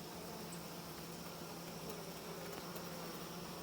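Honey bees at a hive give off a constant low, dense buzzing hum, steady and faint throughout with no voices.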